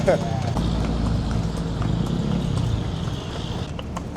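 Horse hooves clip-clop steadily through a Manila street during a horse-drawn ride tour, with city traffic noise around and people talking over the rhythmic steps.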